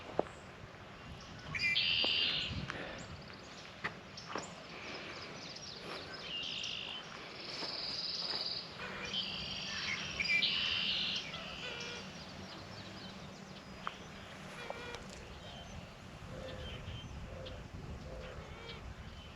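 Birds chirp in short, bright bursts while a soft, low cooing repeats in the background, outdoors at Santee Coastal Reserve with moderate distance and light ambient noise.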